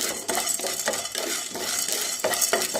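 Chana dal being stirred as it dry-roasts in a pan for bitter gourd podi, a spoon repeatedly scraping the pan with a faint sizzle in steady, close strokes.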